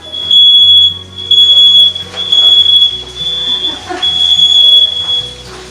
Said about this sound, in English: And then shut off the fire alarm.